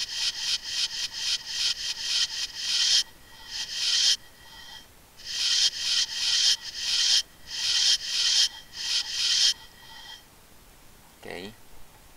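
Rhythmic scrubbing wipes used as a window-cleaning game effect: bursts of rapid rubbing strokes grouped in runs with short pauses, crisp and close, ending in a quick squeaky sweep.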